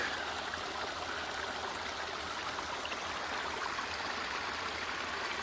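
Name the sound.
flowing creek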